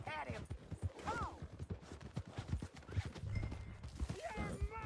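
Hooves clip-clop at speed as a horse gallops in Red Dead Redemption 2, rhythmic and near, with a whinny and shouting voices over the hoofbeats.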